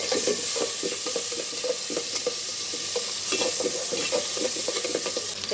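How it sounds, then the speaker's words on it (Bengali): Onions frying in oil in a home kitchen produce a loud, continuous sizzle with rhythmic stirring scrapes throughout. "এই যে তেল আর পেঁয়াজ দিয়ে দিলাম"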